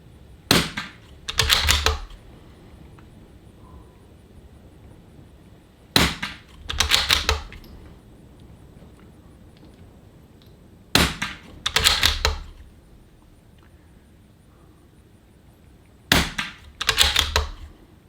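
A TAC 22 .22LR rifle fires on an outdoor range in four separate bursts of sharp, close cracks about five seconds apart, each burst several quick shots with quiet gaps between.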